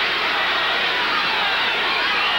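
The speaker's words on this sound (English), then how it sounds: "Crowd chanting for the popular Joey Gamache." Boxing arena crowd chants for Joey Gamache in a WBA lightweight title bout against Tony Lopez, a dense, loud, unbroken roar of many voices filling the hall.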